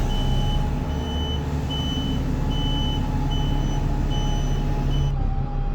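A number 7 bus in Wigan, Greater Manchester, drones steadily from the inside as it moves off, with a regular chain of short high beeps repeating every half second or so over the engine noise. No one speaks.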